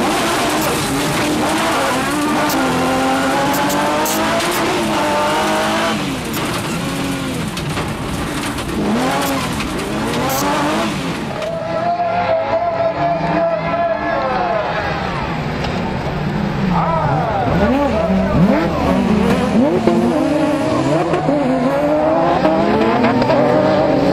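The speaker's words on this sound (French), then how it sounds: "Bienvenue à bord de la Nissan 350Z de Jacques Brinet pour revivre la deuxième série en autocross" A Nissan 350Z touring car on an autocross run, heard from on board, revs loudly and repeatedly through gear changes, its tires squealing and skidding on the turns, with the engine note sustained throughout.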